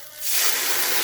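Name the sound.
sauce added to a hot pan, hissing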